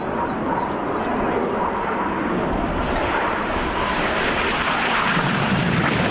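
Red Arrows jets fly an aerobatic display at an air show, a broad continuous roaring rush of engine noise heard from a distance, steady and loud throughout.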